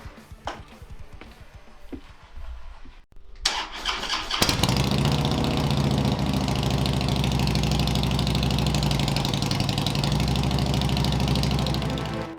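A car engine fitted with new 36-inch Samson Cholo Deluxe exhaust pipes fires up after a few quiet knocks and clicks, then settles into a loud, deep, steady rumble that carries on close by.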